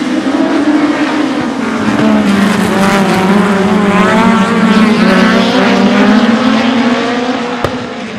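Short track race cars roar through a turn in a super short track series heat, a loud continuous engine wail that rises and falls in pitch as the pack passes close by.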